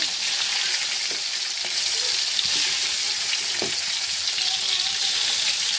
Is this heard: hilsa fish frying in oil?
yes